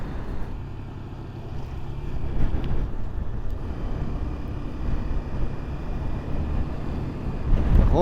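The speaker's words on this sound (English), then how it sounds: "It's so windy here, so windy." Strong wind gusting across the Beagle Channel at Ushuaia, a steady loud roar buffeting the microphone with rumbling low gusts throughout and a faint tonal sound near the end.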